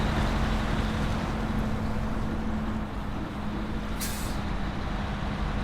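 A heavy truck hauling a large pipe load in SnowRunner strains through the mud with a steady, deep engine drone and a constant hum, and a short hiss of air brakes cuts in near the four-second mark.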